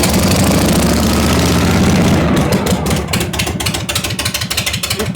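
A Revolt motorcycle cranked by its electric starter, catching and then idling with a fast, steady, loud close-up putter of regular firing pulses.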